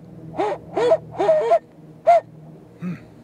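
A person imitates a barred owl with a series of hooting, wavering calls in short bursts, a pause, then a softer final hoot.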